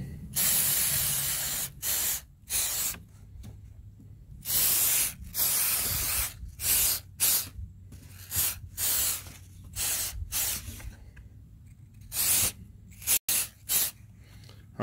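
Flex Seal rubber sealant sprayed onto a box in repeated hissing bursts of varying length, separated by short silent pauses, close and fairly loud.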